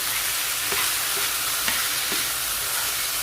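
Salted potato pieces with turmeric being stirred in a frying pan, a steady close sizzle with a few soft scraping strokes of the spoon, no talking.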